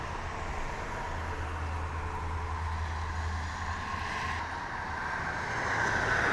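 A Parwis Arlindo Trans bus in a military academy escort convoy passes by on a road, heard as a steady low engine drone and road rush with a soft wind-like hiss, growing slightly louder toward the end.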